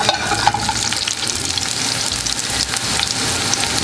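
Garlic frying in a hot oiled pan, a loud close steady sizzle and crackle filling the whole stretch with faint stirring scrapes, no voices.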